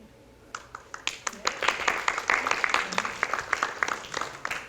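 Audience applause for a volunteer at a talk on Unreal Engine for filmmakers: scattered claps begin, swell into a dense round of clapping, then thin out again, heard close.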